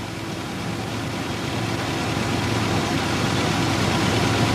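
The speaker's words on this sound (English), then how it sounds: "A car with its engine running and the wheels turned towards the traffic lane is in a position to move rapidly" A car engine idling steadily with a low, continuous rumble and broadband hiss, growing slightly louder over several seconds, with no voices present.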